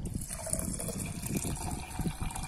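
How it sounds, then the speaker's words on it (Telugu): Water poured into a bowl of washed rice to make rice water for hair, a steady close trickle and splash running throughout with faint background noise. "ఇప్పుడు మనం రైస్ వాటర్ కోసం వాటర్ ని యాడ్ చేసుకోవాలండి"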